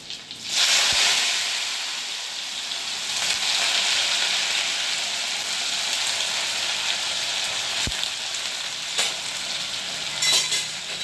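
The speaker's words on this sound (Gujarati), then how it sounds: "આ લસણ નાખ્યું" Garlic dropped into hot oil for a Gujarati tempering with mustard seeds and asafoetida, giving a loud, steady close-up sizzle and crackle that runs unbroken with a few sharp pops and spatters.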